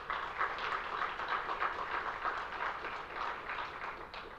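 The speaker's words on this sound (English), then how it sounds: "please put a big clap for him." A faint, even patter of audience clapping for a guest at a Bangladesh climate action forum, heard from a distance for a few seconds without voices.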